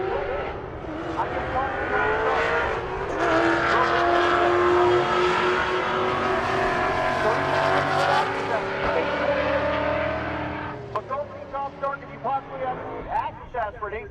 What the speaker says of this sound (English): So we got cars doing burnouts.